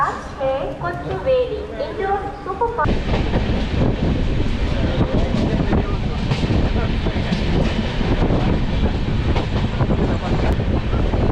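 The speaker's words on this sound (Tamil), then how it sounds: "ஜோலார்பேட்டையிலேருந்தும் ட்ரெயின் இப்போ கிளம்பிடுச்சு." The Chennai Mangalore Super Fast train pulls out of Jolarpettai, heard from inside the train. A voice talks briefly at first, then a steady rolling roar with wheel clatter and wind noise takes over.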